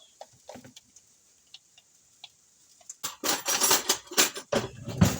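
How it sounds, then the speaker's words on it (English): A knife cuts up a boiled egg for egg salad sandwiches, giving a few faint soft clicks at first and then a louder run of scraping, tapping cuts against a board with dense knocks near the end. "I'm just cutting this egg up"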